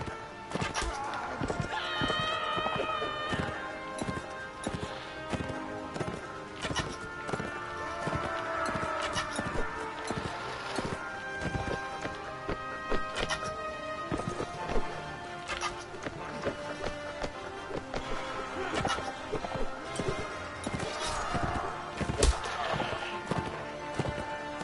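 A horse in Mount and Blade Warband gallops with rapid, repeated hoofbeats, mixed with clashing combat noise and occasional whinnies over a long, busy stretch.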